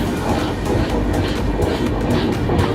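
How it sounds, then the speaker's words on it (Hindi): The Sikkim Mahananda Express pulling into Dalkhola railway station, heard from inside a sleeper coach as a loud, continuous rumble of wheels and carriage with faint rhythmic clatter. "अराइवल हो रही है डालखोला रेलवे स्टेशन पर"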